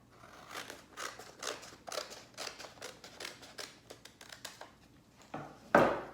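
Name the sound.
scissors cutting across printed paper pattern pages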